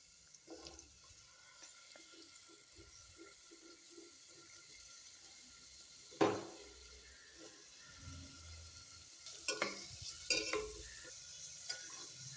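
Chopped onions going into a pressure cooker of hot oil with whole spices while cooking tomato rice, giving a steady low sizzle with a few sharper clatters and stirring scrapes, moderately close and with no talking.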